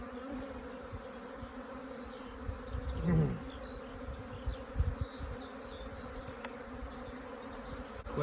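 Honey bees buzz around an open hive during an inspection, a steady close drone with individual bees passing near and a few soft knocks of hive parts.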